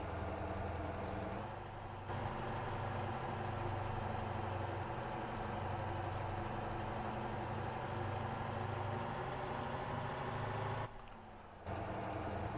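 A stock car engine droning steadily in the racing game Motor Town, a continuous mid-to-low hum at fairly low volume with a brief dip near the end as it shifts gear.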